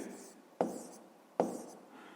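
A pen writes numbers on paper in a quiet room. Two sharp scratching strokes stand out, each fading into softer scraping. The sound is close but faint.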